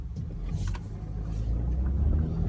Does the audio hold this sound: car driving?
yes